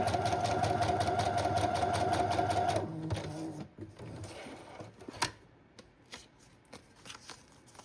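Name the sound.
sewing machine stitching around a journal flap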